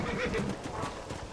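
Horse hooves clip-clop alongside a whinnying neigh in the Red Dead Redemption video game, a short, busy burst of game audio with faint background noise.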